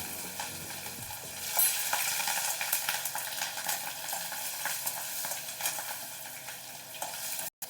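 Bay leaves, two dried red chilies, whole cumin and slit green chilies sizzle and crackle steadily in hot oil, a continuous close frying hiss with small pops, a bottle-gourd curry tempering underway.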